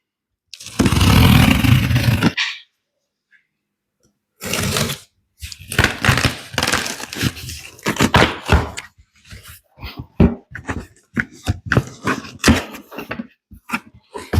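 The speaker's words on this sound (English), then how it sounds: "So a little packaging, we'll remove the packing materials." Braided hose fitting kit being unpacked from its packaging, with a long rustle of packing material, then a run of handling thumps, crinkles and clatters at close range.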